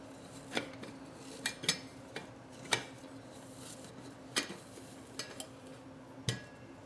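An inexpensive stainless steel cook set with pots and lids is unpacked, giving scattered light metallic clinks and clanks at irregular intervals, close up and fairly soft over a faint steady hum, with no talking.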